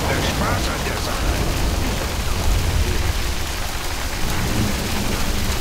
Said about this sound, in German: Und es hagelt schon wieder.